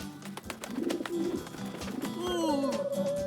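A pigeon coos in the animated series Metalions with soft, low, throaty warbles that rise and hold near the end, set against a busy cartoon soundtrack.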